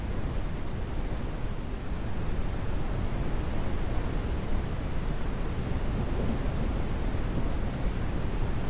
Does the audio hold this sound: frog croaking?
no